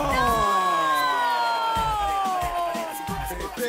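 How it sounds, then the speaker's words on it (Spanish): Studio audience on a Peruvian TV game show cheers and shouts in a loud, continuous crowd roar with high excited voices, close and dense throughout, with a few low thumps underneath. "¡Mano, aplauso para Ron!"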